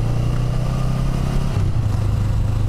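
Honda Rebel 500 or Kawasaki Vulcan S motorcycle engine running steadily at close range, a loud low hum that drops slightly in pitch midway.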